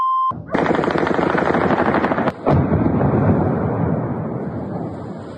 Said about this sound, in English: Powerful explosions in occupied Crimea, an oil depot was attacked.